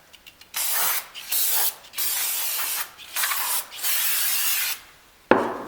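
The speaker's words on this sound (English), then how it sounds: "We'll clean this out a little bit with some brake clean." Brake cleaner sprayed in several sharp hissing bursts into the transmission pan of a 1956 Cadillac Sedan Deville, each blast close and loud with short pauses between, ending with a clank.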